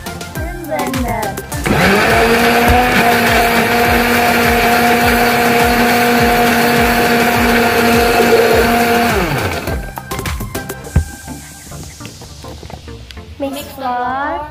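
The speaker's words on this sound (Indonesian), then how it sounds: "We put the Oreo biscuit in the blender." A blender whirs loudly for about eight seconds as it blends Oreo biscuits with milk, a steady high motor drone that starts and stops abruptly, with talk before and after it.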